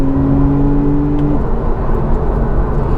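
A Porsche 911 engine revs hard in second gear in sport mode, a loud, sustained droning roar close by with a steady tonal whine that shifts slightly as it climbs.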